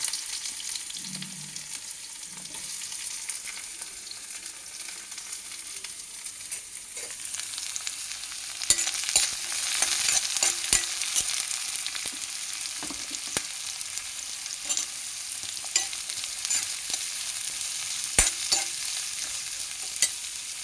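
Onions and green chilies with salt fry in a pan for a ridge gourd and egg curry, a steady sizzling hiss that swells louder partway through with scattered light pops, close and free of talk.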